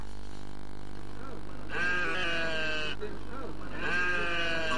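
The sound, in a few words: sheep bleating at a livestock market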